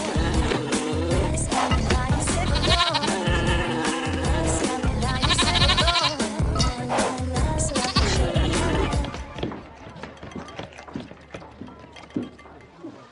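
A goat gives loud, wavering bleats, repeated several times over a busy clatter of mechanical and background noise; the sound thins out and quiets near the end.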